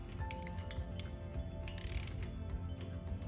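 A torque wrench clicks as it reaches its torque spec during engine port work, several sharp close mechanical clicks and ratcheting sounds spaced irregularly over a few seconds.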